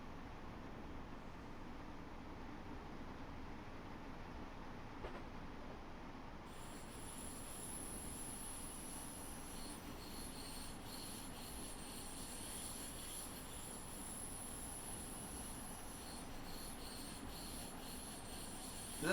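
A passenger train on the Munich to Garmisch-Partenkirchen line braking to a stop, with wheels squealing and rubbing against the rails in a long, faint, steady screech.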